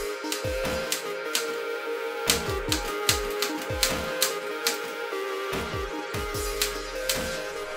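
Antique typewriter keys clack in irregular bursts of sharp mechanical strikes, some rapid and clustered, others spaced apart, fairly close and with no voices.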